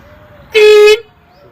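A voice imitating a car horn, one loud sustained nasal honk lasting about half a second, clear and close against a quiet background.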